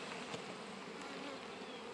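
Many honeybees hum inside a hive in a dense, continuous buzz, close and fairly quiet, with no voices.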